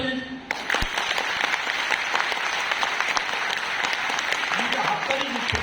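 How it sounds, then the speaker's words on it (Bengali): Audience applause in a crowded Modicare meeting hall, dense sustained clapping that fills the whole stretch at steady loudness, with a few voices calling out over it. "হাততালি দিচ্ছে।"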